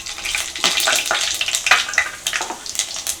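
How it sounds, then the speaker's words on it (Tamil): Fenugreek, cumin and mustard seeds crackle and sizzle in hot oil in a pan, with dense irregular popping bursts over a bright frying hiss, close and lively with no voices. "எண்ணெய் காஞ்சதும் வெந்தயம், கொஞ்சம் ஜீரகம், கடுகு எல்லாத்தையும் போடும்."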